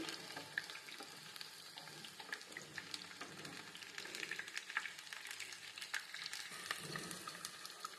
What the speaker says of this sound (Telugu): ఇలా గోల్డెన్ బ్రౌన్ వచ్చేదాకా ఫ్రై చేసి పక్కన పెట్టుకోవాలి.